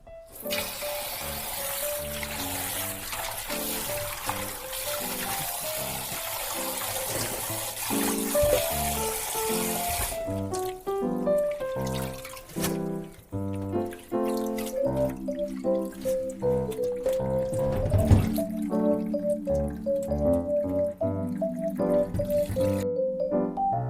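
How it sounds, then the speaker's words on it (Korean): Blanched spring greens rinsed in water, with dripping, splashing and trickling close by, first a rushing stream, then irregular sloshes and drips as the greens are handled, no talk. "데친 나물을 깨끗하게 두세 번 헹구어 줍니다."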